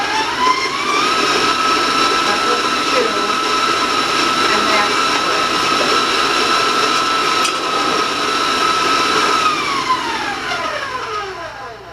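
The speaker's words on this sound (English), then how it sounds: "Warn you about the mixer." An electric mixer beats eggs into pineapple muffin batter with a loud, steady motor whine that runs throughout, its pitch sliding down near the end as the speed drops.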